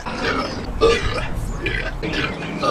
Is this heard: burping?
yes